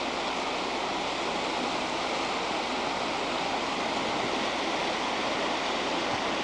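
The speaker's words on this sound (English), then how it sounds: "You hear the water rushing up" Water rushing at a resting spot along a Hawaii trail, a steady broad roar like a stream or falls, constant and fairly loud with no voices.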